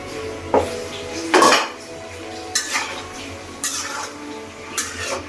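Snakehead fish cooking with snake gourd in a pan, stirred with a metal utensil: a few sharp scrapes and clinks against the pan at irregular intervals over a low steady background, with no talking.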